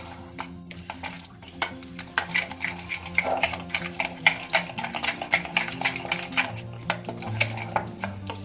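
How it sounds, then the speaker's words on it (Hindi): A spoon stirs half a teaspoon of turmeric and other spices into two kilos of vinegar-and-salt-marinated mutton chops, giving a quick, rhythmic run of metal clinks and scrapes against the pot, loud and close. "सब चीजों को अच्छी तरह मिक्स करके"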